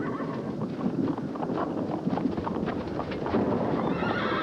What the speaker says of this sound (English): I found Jimmy's horse.